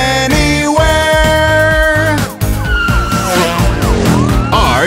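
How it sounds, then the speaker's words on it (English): A police car siren rises and falls through a bouncy children's car song, its wailing tones gliding above the beat and melody in the second half. "I am a police car."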